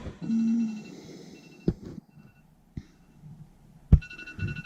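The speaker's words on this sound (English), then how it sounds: "That's the alarm. It goes off for 15 minutes." A faint, steady electronic alarm tone rings throughout, broken by a few sharp knocks and thumps nearby.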